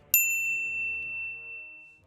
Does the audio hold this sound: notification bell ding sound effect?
yes